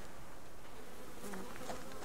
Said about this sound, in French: je vais essayer de suivre le bruit des abeilles qui bourdonnent